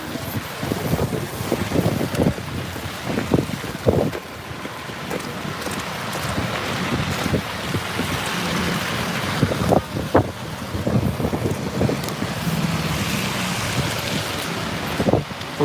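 Strong gusting wind in a snowstorm buffets the microphone with a steady, loud roar and repeated blasts, continuous throughout with no voices.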